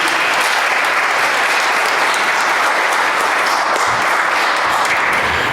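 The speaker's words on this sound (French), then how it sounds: "Je pense qu'on pourra applaudir toutes ces personnes." A congregation applauds the people who served at a Saturday Mass in a church, a dense, loud, steady clapping that fills the space for several seconds without pause.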